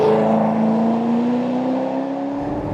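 Supercharged V8 of an HSV GTS-R W1 droning loud and close, its pitch rising smoothly as the engine pulls with a hard metallic edge before easing off at the end.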